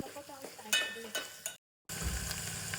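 Ginger garlic paste fries in oil with spices for a spicy dry fish curry, giving a steady broadband sizzle with a few louder stirring scrapes, a brief silent gap, then the frying resumes close and loud.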